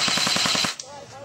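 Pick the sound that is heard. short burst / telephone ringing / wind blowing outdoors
short burst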